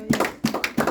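A church congregation claps together in acclamation of Jesus. The claps are close and rhythmic, with hand claps landing in quick pairs, repeated in a steady beat.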